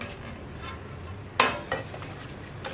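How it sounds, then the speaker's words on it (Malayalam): A spoon clinks and scrapes in a pan as fried egg is mixed into thick cornflour gravy for egg manchurian over high flame, mostly quiet stirring with one sharp metallic knock and a softer tap after it. "ഇതിലേക്ക് നമുക്ക് ഫ്രൈ ചെയ്ത് വെച്ചിരിക്കുന്ന മുട്ട ചേർത്ത് മിക്സ് ചെയ്യാം"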